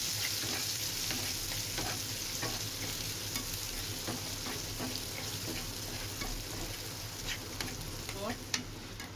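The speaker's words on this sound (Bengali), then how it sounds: "এবার মশলাটাকে নাড়াচাড়া করতে হবে যেন না লেগে যায়।" Ginger-garlic paste and spice paste fry and sizzle in a pan while a spoon stirs them, giving a steady close hiss broken by scraping, clicking stirring strokes, with no talking.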